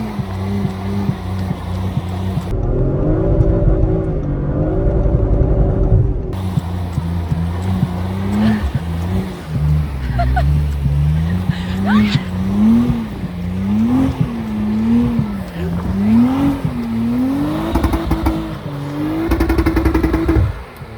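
An Audi RS4 B9 engine strains while pulling a stuck truck out of snow, its revs rising and falling in repeated surges, loud and close, with tyre and drivetrain noise beneath.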